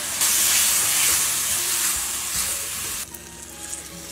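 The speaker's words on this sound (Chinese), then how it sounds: "下蒜片和那个彩椒，炒出香味之后，把口蘑下里" Garlic slices, bell pepper and button mushrooms stir-fry in a hot wok, with a loud, steady sizzle and hiss close by that drops to a softer sizzle partway through as the food is stirred.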